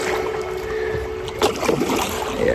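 A kayak grinds and scrapes over the rocky bottom of shallow rapids, a close, rough rasping under steady rushing water and wind noise with no talk.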